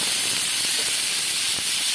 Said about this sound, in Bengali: এবারে এর মধ্যে দিয়ে দেবো কেটে রাখা টমেটো